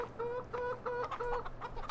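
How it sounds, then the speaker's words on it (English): A rooster in Farming Simulator 2013 gives a quick series of repeated clucking calls, moderately close and fairly quiet, over a low farm hum. "this is a real busy-ass rooster"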